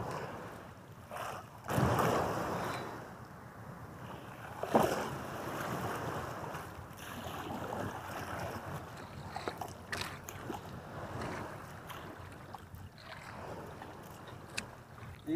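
A small unpowered rowing boat moves over open sea near the shore. Paddle strokes splash and waves wash nearby, with wind buffeting the microphone throughout.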